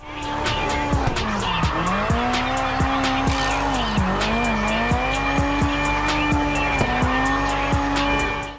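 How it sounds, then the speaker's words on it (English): A car drifts in a racing video game, its tires squealing in one long, loud, wavering screech over a steady engine drone. The pitch dips and recovers several times, with faint regular ticking underneath. "There is something that is just so satisfying about drifting down the road"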